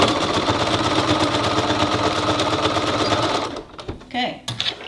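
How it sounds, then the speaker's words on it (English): A sewing machine sews an oven mitt in a steady, rapid, close whirring run for several seconds, then stops and gives way to a few faint handling clicks and taps. "you can sew it on the machine. You can't see it, so I always sew it on the machine."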